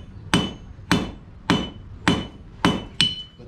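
Blacksmith forging metal at a school fair at a historic museum, six loud, sharp hammer strikes on metal in a steady rhythm about every half second, each ringing briefly with a metallic tone.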